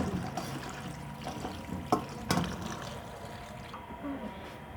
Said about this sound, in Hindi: तो हम ठंडे पानी से नितार लेंगे ताकि ये आपस में चिपके ना।